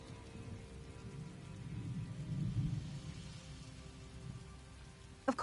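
Steady rain falls in the video game Elder Scrolls Online, a soft continuous hiss with low rumbling texture and a brief sharper knock near the end, no voices.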